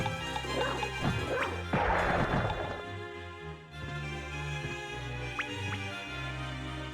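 A dog barking in Castlevania: Symphony of the Night, a few sharp yips and barks with a crash, over a droning game soundtrack.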